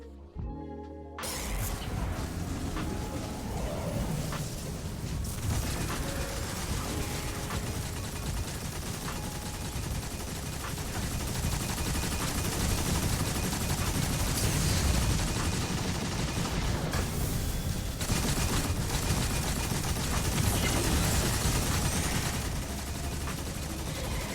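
Dense, sustained machine gun fire from the Thunderlord in Destiny 2, a loud continuous rattle of rapid shots running almost unbroken for the whole stretch with no talk.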